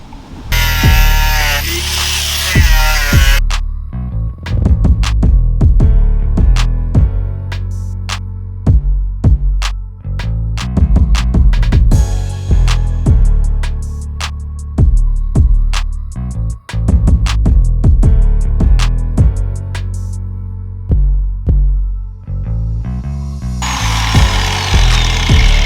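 An angle grinder cuts into rusted car body metal in loud, sustained bursts that stop and restart, with sharp grinding transients between pauses.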